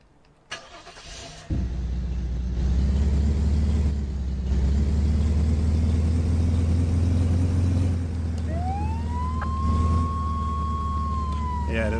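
Ambulance driven in the Flashing Lights emergency-services game: a loud steady engine drone throughout, with a siren-like rising tone sweeping in near the end.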